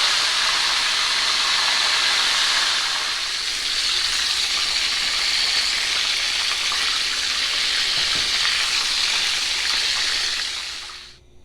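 Steady, loud sizzling of chicken frying in hot oil, a continuous bright hiss with faint crackles that cuts off abruptly at the end.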